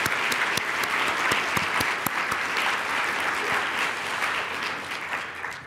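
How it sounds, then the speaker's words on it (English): An indoor conference audience claps steadily at the closing of a cognitive aging summit, a dense, even round of applause lasting several seconds before slowly thinning out. "Please, a separate applause."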